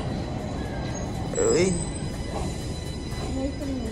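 Line 1 subway train in downtown Toronto rumbles steadily throughout, with a brief louder rise in the middle and a person speaking briefly nearby.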